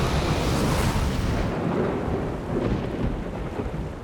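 A thunderstorm rolls with heavy rumbling thunder over steady rain, loud and close at first, then the rumble eases while the rain keeps falling.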